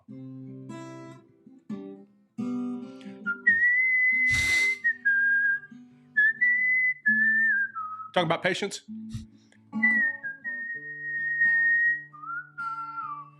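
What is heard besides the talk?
person whistling a tune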